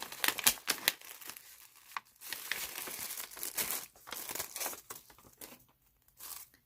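A vellum envelope being handled up close, with sharp crinkles and papery rustles in irregular bursts separated by brief pauses, fairly faint and with no talking.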